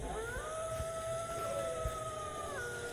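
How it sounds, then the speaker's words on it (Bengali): A dog howls somewhere far off in the night, one long wavering drawn-out tone that rises and falls over steady background hiss, with no one speaking. "আবার কুকুর ডাকছে ওইদিকে"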